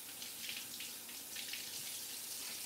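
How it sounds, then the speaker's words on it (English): A sink tap runs steadily as a shammy cloth is rinsed under it, a continuous close hiss of water with faint splashing and no talking. "So then you just rinse it out in the sink."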